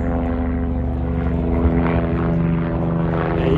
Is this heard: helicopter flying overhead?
yes